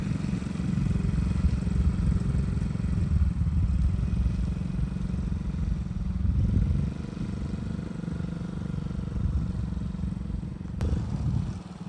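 A cheap kids' quad bike, freshly repaired with carburetor and electrical work, runs steadily during a test ride, its small engine giving a continuous low buzzing drone up close with slight rises and dips in pitch.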